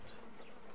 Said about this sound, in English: Holmes, where have all these wretched bees come from?